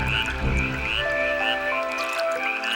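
A male tree frog calls loudly and close, a rapid pulsing croak repeated in steady bursts over a low rumbling background, with no voices.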